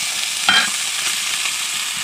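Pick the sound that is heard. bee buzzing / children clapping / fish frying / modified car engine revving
fish frying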